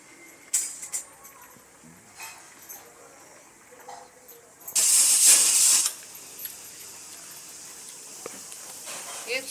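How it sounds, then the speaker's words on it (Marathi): A pressure cooker whistles for about a second as steam vents sharply during pav bhaji cooking, a loud hissing shriek over faint kitchen background. "एक शिटी झालेली आहे."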